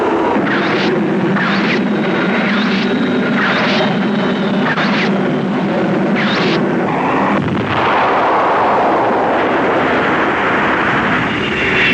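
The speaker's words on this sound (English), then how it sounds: "Did you see the force of that explosion as it hit the ground?" Explosions and heavy gunfire in a war film scene where planes attack an Eskimo village, booming repeatedly and loudly with dense rumble across the whole stretch, easing into a sustained roar near the end.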